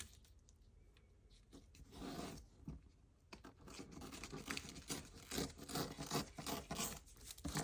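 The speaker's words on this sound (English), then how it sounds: "Let's see if we can get that to tear off without making a mess." A piece of paper is torn off a junk journal page, with soft ripping and scraping bursts that grow busier and louder in the second half, close and alone without talk.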